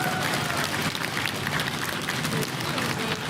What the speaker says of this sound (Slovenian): en aplavz za vaše navijače